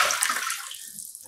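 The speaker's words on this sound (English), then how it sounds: "And I'm going to add water." Cold tap water pours into a bowl holding citric acid solution for dyeing yarn, a steady broadband splashing rush that is loudest at the start and eases off over about a second.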